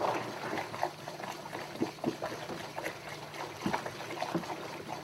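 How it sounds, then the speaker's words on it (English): Water and grape juice being stirred in a winemaking bucket, giving soft irregular sloshing and swirling with faint knocks, close and fairly quiet. "We're going to stir in that water and juice."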